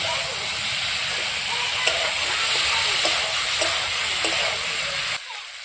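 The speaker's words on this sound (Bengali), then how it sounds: "এখন আমি ফুলকপি আলু দিয়ে দেব, ভালোভাবে আমি কষিয়ে নেব।" Cauliflower and potatoes frying in spiced oil in a village-style kitchen, a loud steady sizzle and hiss filling the whole stretch with a few faint stirring knocks, dropping slightly at the end.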